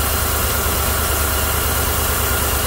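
A 2017 GM truck's 5.3 V8 idles on four cylinders with a bent pushrod, a steady, close, loud low rumble with a broad hiss over it and no talking.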